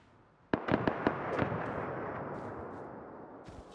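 A grenade detonates in a Rust-style base-raiding video game, a loud sharp blast followed by several quick cracking pops and a long fading rumble, with faint crackles trailing near the end.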